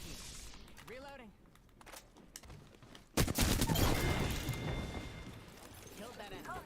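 Apex Legends gunfight on World's Edge: after a quieter stretch with a few isolated shots, a dense, loud burst of rapid automatic fire erupts midway and keeps rattling as it slowly fades, with voices talking in between.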